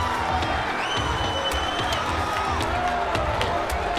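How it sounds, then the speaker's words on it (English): Boxing arena crowd at a women's bout cheering and roaring, a dense continuous wall of voices with scattered whoops and shouts, loud and close throughout. "The crowd erupted every time Shields landed a big shot"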